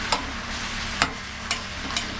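Tomatoes are stirred and sautéed in a pan for pickle, a steady close sizzle broken by four sharp spoon scrapes at roughly half-second intervals.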